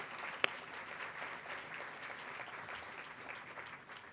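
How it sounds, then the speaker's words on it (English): A roomful of attendees at an education policy event gives sustained, even applause for the Learning Policy Institute team, heard faint and somewhat distant with one sharp clap standing out early on. "So a round of applause to the entire LPI team"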